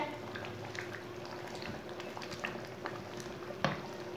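Masoor dal with potatoes bubbles gently in a pot at low volume while a spoon stirs through it, giving occasional soft clinks and scrapes.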